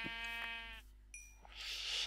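A Minecraft sheep gives one clear, wavering bleat up close, followed by a short pause and a faint fuzzy hiss, with no talking.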